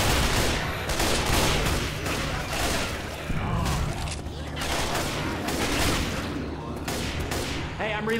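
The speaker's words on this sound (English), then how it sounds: "Shoot that zombie in the back!" Zombies are shot in Left 4 Dead 2 during The Parish campaign: loud, rapid bursts of overlapping gunfire crackle continuously, close up, with voices mixed in beneath the shooting.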